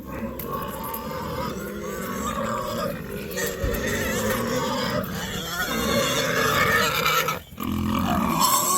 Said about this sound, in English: Pigs are a bit harder to handle.